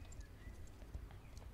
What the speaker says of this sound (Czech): tady ten kůň má úplně naprosto boží krok